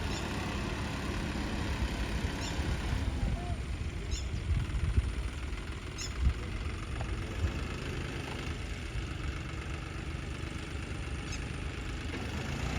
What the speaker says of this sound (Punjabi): ਆ ਦੇਖ ਲਓ ਆ ਰੰਗ ਦਾ ਟਰੈਕਟਰ ਹੈ ਇਹ